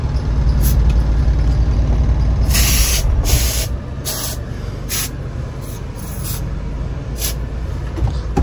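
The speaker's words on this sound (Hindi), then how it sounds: "अब इसके अंदर मारेंगे स्प्रे," An aerosol can sprays inside a car with the air conditioning running, several hissing bursts of varying length over a loud constant fan roar.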